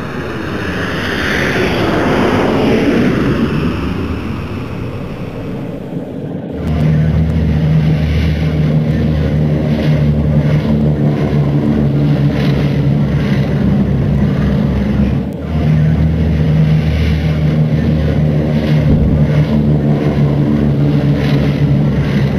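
A cartoon rocket blasting off and flying in a Curious George space video game: a loud rising whoosh at launch, then a steady, droning engine roar with a low hum that holds for the rest of the flight.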